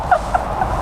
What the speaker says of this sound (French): Il y a les poules qui vont sur mes affaires